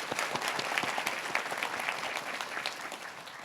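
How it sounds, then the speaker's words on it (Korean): Welcoming applause from the audience at a construction-safety scholarship award ceremony, brisk continuous clapping throughout at an even moderate level. "환영의 박수"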